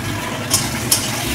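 Chopped onion and garlic sizzle and crackle in a hot wok, a close, steady frying hiss broken by two sharp metallic clinks of a stirring utensil against the pan.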